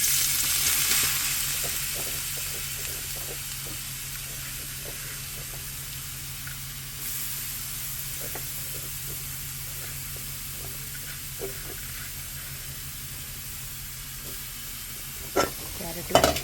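Sliced carrots frying in a pan for carrot halwa, sizzling steadily with a continuous hiss and repeated scraping stirs, loud at first and then settling, with a few sharper clatters near the end.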